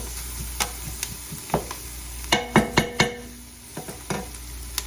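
Translucent onions fry in a pan to cook off their moisture, giving a soft sizzle under a run of close clinks and scrapes as a utensil stirs them, with several quick knocks clustered in the middle.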